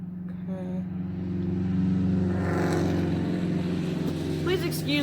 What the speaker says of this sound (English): Please excuse the traffic on my road